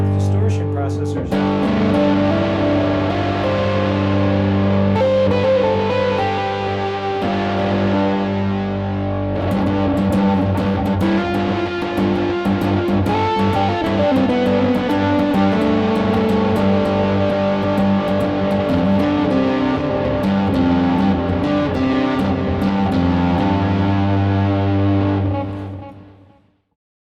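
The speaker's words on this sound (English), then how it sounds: "have two different distortion sounds set up, one on the bass side, one on the melody side." A Chapman Stick is played with bass and melody sides each sent through two distortion processors, producing a thick, sustained, fuzzy tone with layered chords and notes for about twenty-five seconds before stopping abruptly.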